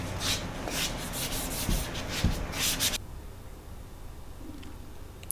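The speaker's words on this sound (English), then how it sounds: "mostly hand sanding it" Black walnut wood being sanded by hand, rapid rough rubbing strokes in a steady rhythm for about three seconds, then near quiet with faint scraping.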